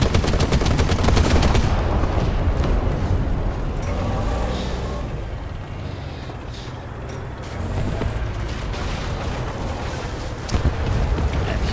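Repeated gunfire in War Thunder tank combat on the Maginot Line map, a rapid rattling burst at the start and another near the end over loud rumbling engine and wind noise.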